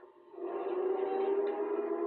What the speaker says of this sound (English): They sounded the air raid sirens in Baghdad this morning